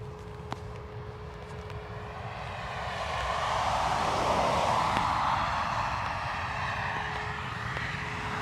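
Ryanair airliner at Dublin Airport bound for Lanzarote: a faint, distant jet engine roar that slowly swells, peaks midway and then eases off. No voices are heard.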